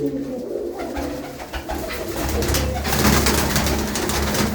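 A pigeon coos in low, rolling calls close by, repeating steadily over a soft background of rustling and other faint noise.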